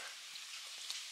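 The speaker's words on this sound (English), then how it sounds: "Stir it up." Chili with tomato sauce and beer being stirred in a pan, a soft continuous sizzle with faint scraping movements, quiet and steady with no talking.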